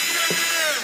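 An electric drill spinning steadily at high RPM, running on a 50 V DC battery supply; a continuous whine fills the short moment, close and fairly loud, with a brief low thump partway through.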